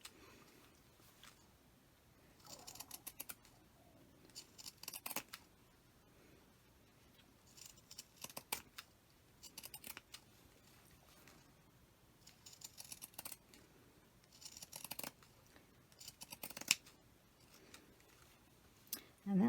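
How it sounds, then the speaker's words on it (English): Scissors snipping slowly through four stacked layers of fabric while cutting out sewn hand warmers. Short, quiet clusters of cuts are separated by long pauses, close by and faint. "Take your time, because that's 4 pieces of fabric that you're cutting through right there."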